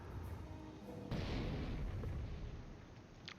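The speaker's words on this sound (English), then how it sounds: "Some mortars pounding this Fort HQ" Mortar shells pounding a fort HQ in the Company of Heroes video game, a rumbling barrage of muffled blasts swelling after a second, moderately distant and sustained, with no talk.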